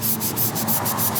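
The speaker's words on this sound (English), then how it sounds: "Our third step would be getting the Scotch-Brite and sand it down." A Scotch-Brite pad rubs a concrete fire pit in rapid back-and-forth strokes, a loud, close, rhythmic scrubbing hiss with no voices.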